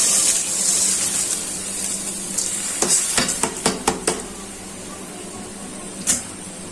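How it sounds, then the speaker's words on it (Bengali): Washed polao rice for bhuna khichuri is tipped into a pot, giving a steady frying hiss with a cluster of sharp clatters and scrapes in the middle and one more knock near the end; no voices. "আগে থেকে পরিষ্কার করে ধুয়ে রাখা পোলার চালের ডালগুলো দিয়ে দিচ্ছি"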